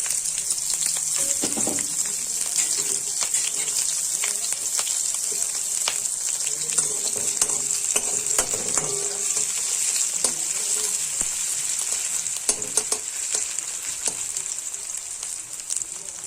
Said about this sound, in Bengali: আদা রসুন লঙ্কার কুচিগুলো একটু ভালো করে লাল লাল করে ভেজে নেব।